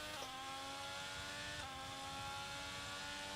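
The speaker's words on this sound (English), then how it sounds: "Listen to that Ferrari engine growl down the straights." Ferrari Formula 1 car engine in the F1 2022 racing game at Bahrain, a steady high-pitched wail holding constant with slight pitch shifts, loud and continuous throughout with no talking.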